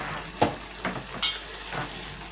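Onion and garlic fry in a pan with wild duck over strong gas heat, giving soft sizzling with a few sharp crackles and spatters popping up over a quiet hiss.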